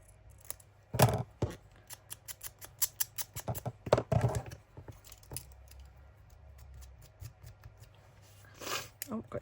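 Scissors trimming paper for a cheque book junk journal, a quick series of crisp close snips and paper rustles, with a louder cut or two standing out and a voice speaking faintly in places.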